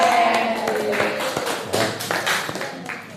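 Classroom of students giving a round of applause, a dense burst of overlapping hand claps with scattered sharper taps, fairly close and fading slightly toward the end.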